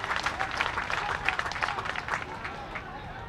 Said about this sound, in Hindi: तालियों की गड़गड़ाहट से भीम सिंह की बातों का समर्थन करें।